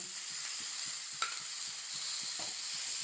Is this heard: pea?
yes